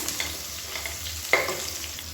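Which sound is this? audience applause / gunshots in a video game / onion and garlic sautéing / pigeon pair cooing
onion and garlic sautéing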